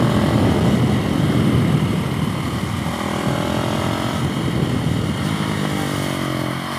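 A supermoto motorcycle engine roars steadily and loudly on a race track during a wheelie, a sustained high-revving drone with heavy wind rumble and no speech.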